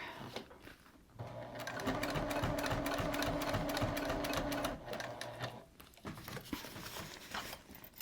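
A sewing machine stitches slowly over the thick layered parts of a hip bag, a steady mechanical whirr with rapid needle clatter running for about three seconds, then stopping and restarting briefly.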